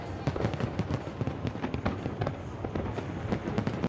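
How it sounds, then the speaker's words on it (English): Fireworks explode in rapid, irregular bursts of sharp cracks and pops over a dense, rumbling wash of noise, loud and sustained throughout. "This is fireworks, guys."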